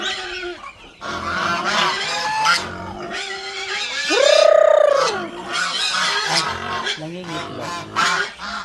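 Geese honk loudly in a rural village farmyard alongside ducks and pigs, a string of nasal calls capped by one long, drawn-out honk midway, with other fowl chatter throughout.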